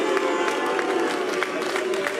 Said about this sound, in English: How much do you like the woos? How much do you like the fact that this crowd loves Wu Yize?